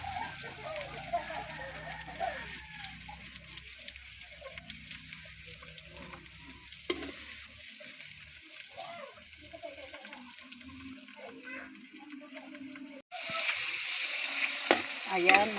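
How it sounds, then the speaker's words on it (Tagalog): Chicken hotdogs frying in a pan, a soft steady sizzle with occasional stirring clatter, fairly quiet and close, growing louder and hissier near the end. "Chicken hotdog, mga kananay. Iprito-pritohin ko muna siya bago ko lalagyan ng panimpla."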